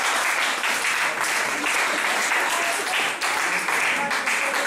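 Church congregation applauding during a sermon, a loud, sustained wash of clapping that fills the whole stretch with slight swells and dips.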